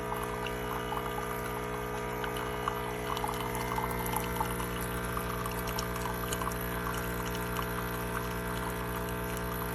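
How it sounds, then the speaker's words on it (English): A Cuisinart Coffee Center Barista Bar 4-in-1 single-serve coffee maker runs loudly with a steady, dense motor hum and churning liquid noise that holds constant for the full stretch, close and without talk. "It's so loud. I've never heard a coffee pot sound like that."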